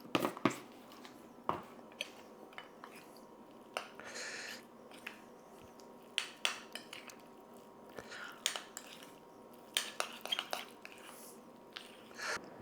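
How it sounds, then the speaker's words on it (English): Cottage cheese being mixed with peanut butter powder, about 170 grams in a bowl, a spoon scraping and clinking against the dish in irregular bursts, close and fairly quiet, with soft squishy stirring between the taps. "Mix that in."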